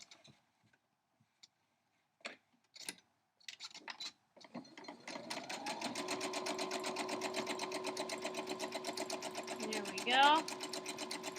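A sewing machine stitching through fabric and canvas, heard as a rapid, even mechanical whirring rattle that starts partway in and runs steadily. Brief speech and handling noises come before it.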